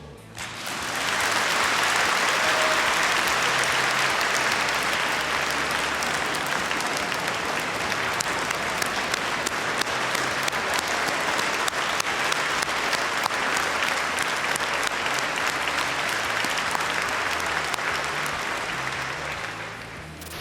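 A crowd gives a long, loud ovation after a toast to a leader, dense sustained clapping that holds steady for about twenty seconds before tapering slightly, with no voices.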